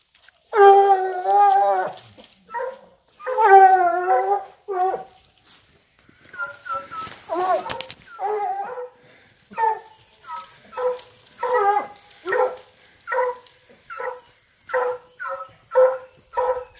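Hunting dogs on a lion chase give repeated yelping barks and whining howls in uneven bursts, fairly close, with a voice calling among them.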